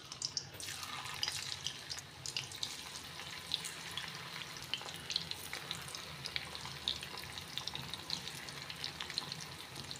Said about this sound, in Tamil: மசாலா தடவி வச்சால பீஃபை இப்போ பொரிச்சு எடுத்துக்கலாம்.